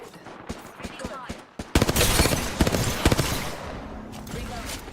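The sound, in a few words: gunfire from shooting in a video game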